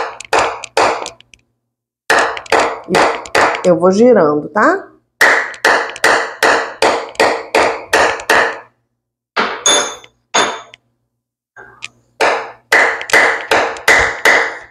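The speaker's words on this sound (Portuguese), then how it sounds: "vou fazendo pancadas com martelo." A hammer cracking a coconut held in a cloth, quick runs of sharp hard taps struck along its middle, with pauses between bursts and a person talking briefly amid the blows.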